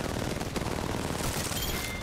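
Rapid automatic gunfire in the video game Apex Legends, loud and dense, with bursts overlapping steadily throughout and no talk.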